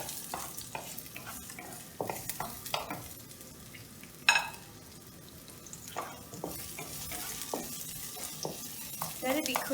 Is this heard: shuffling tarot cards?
no